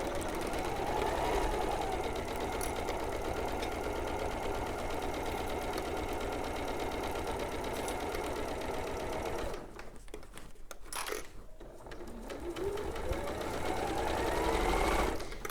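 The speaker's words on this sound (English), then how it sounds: "I'm just going to sew all the way around this" Sewing machine stitching steadily around a piece of fabric, a fast even whirring hum close by, pausing briefly before starting up again and running on.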